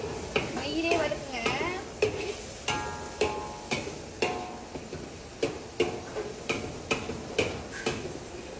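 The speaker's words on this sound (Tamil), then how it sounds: "நல்லா வதங்கணும், நெய்யிலே வதக்குங்க" Onions sautéing in ghee in a pan, a steady soft sizzle under repeated sharp scrapes and clinks of a spoon stirring against the metal at a fairly even rhythm, close and moderately loud.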